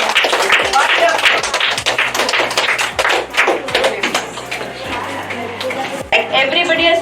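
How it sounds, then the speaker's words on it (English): Children in a classroom clap after a fractions game, giving scattered, uneven claps and taps with a teacher's voice talking over them throughout. "Please clap for them."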